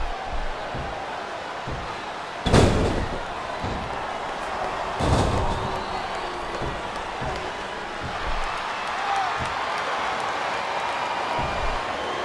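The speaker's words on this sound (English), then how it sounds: "Now the fans start to cheer for him" Arena crowd at a WWE Unforgiven 2006 match between Carlito and Randy Orton keeps up a steady, loud roar of cheering, broken by two heavy ring slams early on.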